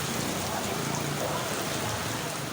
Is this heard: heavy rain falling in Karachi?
yes